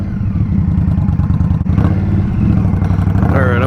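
A 2023 Indian Scout Rogue cruiser motorcycle rumbles loudly and steadily while being ridden, a deep close engine drone with a brief dip partway through.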